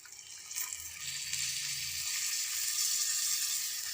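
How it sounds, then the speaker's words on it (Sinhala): Water pours steadily into a cooking pot holding meat, a continuous bright hissing splash that rises slightly and carries on without a break, close and fairly quiet, with no voices. "මම මේ වෙලාවේ දැන් වතුර දාගන්නවා."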